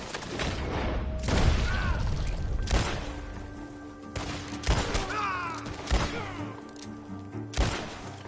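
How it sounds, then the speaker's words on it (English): Gunfire from a shootout in a video game, a handful of sharp broadband shots and booms spread irregularly across the scene, loud and close, with background ambience and no talk. "The gunshots are coming from that..."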